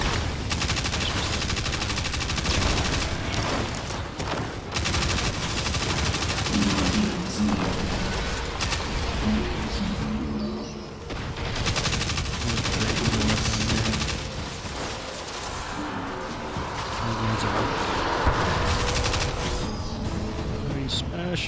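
Dense, rapid heavy-weapon gunfire in the Destiny 2 shooter game, continuous bursts of firing with booming impacts over a few brief pauses, loud and close with a voice talking underneath at times.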